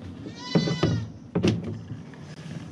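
Goats bleat twice in a barn or pen setting, close and fairly loud, with a wavering bleat followed by a second shorter one over faint background rustling.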